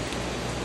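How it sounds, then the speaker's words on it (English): Rain falling steadily near an engine rebuild work area, a dense, even hiss of drops with no breaks, close and moderately loud, with no talk. "Here comes the rain."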